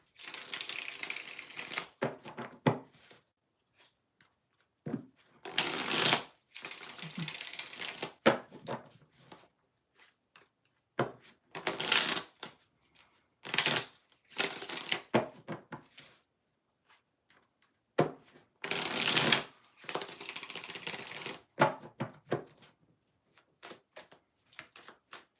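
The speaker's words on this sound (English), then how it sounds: "Three more shuffles." Tarot cards are shuffled over and over in short, crisp riffling bursts of flicks and slaps, with quiet gaps between them. The sound is close and fairly soft, and no one speaks.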